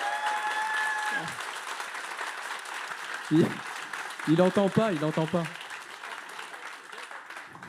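Audience applause at a tourism professionals' forum on hiring seniors: steady clapping throughout, with people talking over it.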